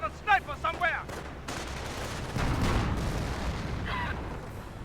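A US landmine goes off in the video game Company of Heroes, a sudden broad blast that rumbles on among scattered gunfire, with a brief voice at the start.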